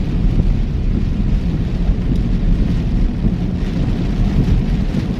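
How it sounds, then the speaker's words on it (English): Heavy thunderstorm rain drums steadily and loudly on a car during a dark, rainy night, a dense continuous roar with low rumbling underneath and no pauses throughout. "Do you guys hear this rain? This is like unreal."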